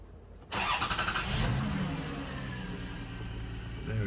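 A 2004 Lexus ES300 engine cranks and catches with a sudden loud start, briefly revs, then settles into a steady, smooth idle close by with no talking.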